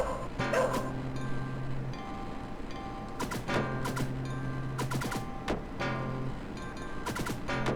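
In the arcade game Shadow Dancer, played on MAME, a game dog yelps, barks and whimpers in several short sharp bursts, mixed with steady background music and game effects.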